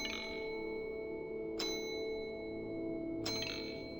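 A service bell in a video game rings twice, bright metallic dings about a second and a half apart, each with a lingering ring over a steady low ambient hum.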